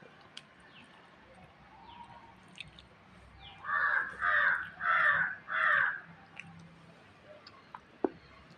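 A crow caws four times in a steady run from a neighbouring house, fairly near and clear, with quiet surroundings and no talk.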